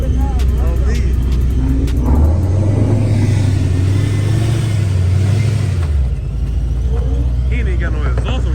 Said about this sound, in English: He ain't got no exhaust on that bitch.